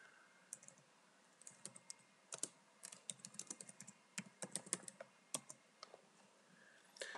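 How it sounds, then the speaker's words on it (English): Irregular bursts of crisp keystrokes come from someone typing on a computer keyboard, close and fairly quiet, with short pauses between clusters of clicks. "I edit this document, and I type in here Jane"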